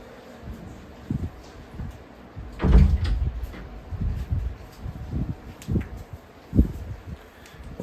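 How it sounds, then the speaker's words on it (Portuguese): An indoor door pushed shut in a quiet room, a soft swing and thud followed by a few light knocks and handling clatters, moderately close with no talking. "Eu vou fechar a porta aqui rapidinho que o bebê tá dormindo."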